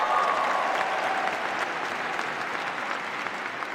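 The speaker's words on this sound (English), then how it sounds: "Yeah, you can clap for that" A commencement audience at a University of Pittsburgh School of Education spring ceremony applauds. The dense, steady clapping of a large crowd fills the space throughout and fades slightly toward the end.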